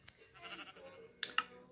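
Sheep bleating in a video game, faint and brief, with a couple of sharper bleats near the end over a quiet background.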